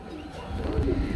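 Hungarian Budapest pigeons coo in soft, low murmuring calls close by, over a steady background hum.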